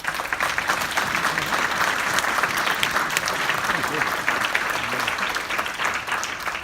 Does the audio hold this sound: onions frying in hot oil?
no